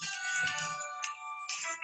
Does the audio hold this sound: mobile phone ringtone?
yes